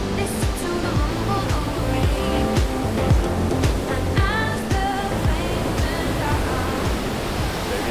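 Ocean surf at a surf beach on Lanzarote roars steadily and loudly, a dense continuous wash of breaking waves close by with no clear pauses.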